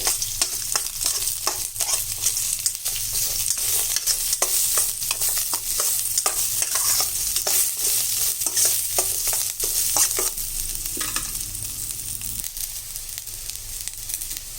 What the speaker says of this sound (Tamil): இதில் ஒரு 7-8 பல்லு பூண்டு, ஒரே ஒரு மீடியம் சைஸ் வெங்காயம் இதெல்லாம் நல்லா வறுத்துக்கலாம்